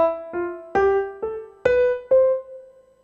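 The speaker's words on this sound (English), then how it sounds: "an example of an accent, if I were to play it every other note on a scale" A scale on a pitched instrument with accents on every other note, six notes in an uneven rhythm where alternate notes strike noticeably louder and sharper, the last one sustained and fading, heard alone.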